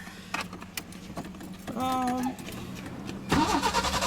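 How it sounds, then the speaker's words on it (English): A Peugeot 505 V6's starter cranks the engine in short whirring bursts, close up, without the motor catching into a steady run. "So I cranked the engine."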